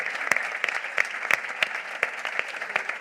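Scattered audience applause at the presentation of a Spanish public plan, distinct individual claps ringing out over a denser patter, moderately close and even throughout.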